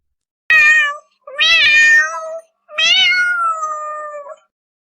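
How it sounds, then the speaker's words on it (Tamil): A lone kitten in a Tamil children's cartoon meows plaintively three times, loud and close, each cry drawn out with the last one longest. "இந்த பூனைக்குட்டி தனியா இருக்கனால தான் இப்படி அழுதுகிட்டு இருக்கு"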